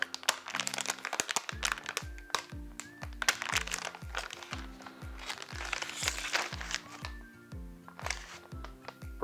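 Packaging around a brand-new old-stock Atari 400 keyboard crinkles and crackles as it is unwrapped up close, in a busy run of irregular rustles and crisp snaps with no talking.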